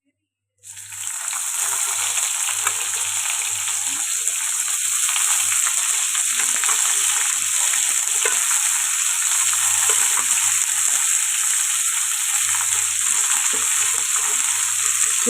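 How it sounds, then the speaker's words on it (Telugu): Chopped ivy gourd hitting a pan of hot oil with fried lentils and dried chilli, bursting into a loud, steady hiss that continues evenly close by, with faint stirring scrapes underneath. "ఇప్పుడు కట్ చేసి పెట్టుకున్న దొండకాయలు అయితే వేసేసుకున్నాం"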